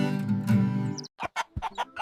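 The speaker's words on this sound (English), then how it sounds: "H is for hen." A hen clucking and squawking close by: a drawn-out harmonic call followed by several short, choppy clucks in quick succession.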